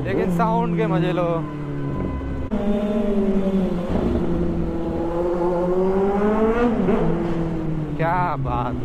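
A Kawasaki Z900 superbike engine revs hard through rising and falling gear sweeps, loud and close, with a rider's voice talking over parts of it.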